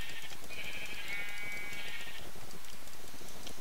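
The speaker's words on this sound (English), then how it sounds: "I'm right in front of a whole bunch of sheep" Sheep in the Minecraft video game bleat loudly and close by in a drawn-out, wavering call over a dense, constant background noise.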